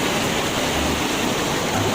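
The Cigeruk river at Gunung Puntang flows in a steady, dense rush of water, close and continuous with no breaks.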